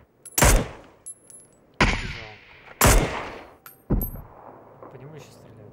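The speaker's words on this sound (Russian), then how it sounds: "По нему еще стреляют." Gunfire in the video game PUBG, with four loud sharp gunshots spaced about a second apart, each followed by a ringing decay and metallic pings, while a voice talks quietly between shots.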